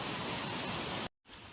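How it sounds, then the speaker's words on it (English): Steady rain ambience used as nature background in a jigsaw puzzle game, a dense even hiss that cuts out briefly for a moment before resuming. "rain,"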